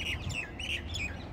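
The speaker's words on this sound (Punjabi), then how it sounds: "ਚਿੜੀਆਂ ਦੀ ਚਹਿਚਹਾਟ" Sparrows chirp in quick bright bursts over a quiet outdoor hillside view near a satsang ghar, a few short calls repeating close by against a low background hum.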